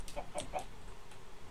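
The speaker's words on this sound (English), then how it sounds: "Chickens have to go in." Chickens cluck in a multiplayer sandbox game as they are herded indoors. Three quick, moderately loud clucks sound in a row over a soft, steady background hiss, with a fainter cluck following.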